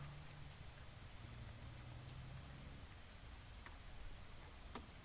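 Steady rain in the video game Hobo: Tough Life, a constant soft hiss of falling drops with faint scattered ticks, continuous throughout at low level.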